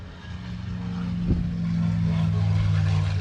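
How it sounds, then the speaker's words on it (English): A P-51 Mustang propeller aircraft takes off at an air show, its steady low engine drone building and holding loud and near throughout, with a brief thump partway through. "Looks like we got P-51 Mustang might be taking off"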